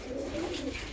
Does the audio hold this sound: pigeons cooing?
yes